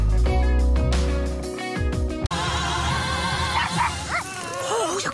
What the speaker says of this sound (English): Oh, you're a good dog.